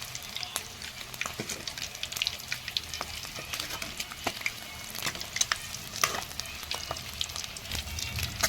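Eggs frying in oil in a pan while being browned, a continuous crackling sizzle with frequent sharp pops and stirring scrapes, close up and unbroken by talk.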